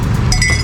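Glass clinks briefly as masala soda is mixed at a roadside soda stall in Thiruvananthapuram, a bright short ring over dense, loud background noise.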